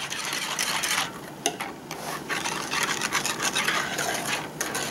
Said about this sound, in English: So I'm just going to whisk all this together